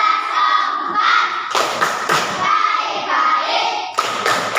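A class of fourth-grade pupils claps hands together in a counted group clap led by the teacher, bursts of rhythmic claps with children's voices and shouts mixed in, close and lively in a classroom.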